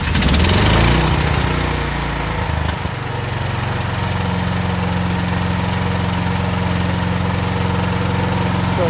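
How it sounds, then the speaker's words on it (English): A portable generator engine cranks and catches, then settles into a loud, steady running drone with a constant low hum, close by and without talk. "generator on, start."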